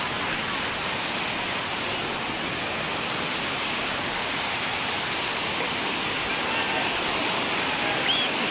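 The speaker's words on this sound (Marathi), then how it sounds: "ते पाणी पहा कसं वाहत आहे." Water pouring over Bhushi Dam near Lonavala, a loud, dense, continuous roar of cascading flow that holds steady throughout, with no clear voices above it.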